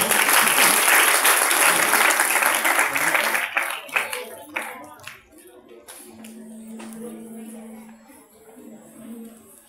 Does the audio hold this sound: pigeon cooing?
no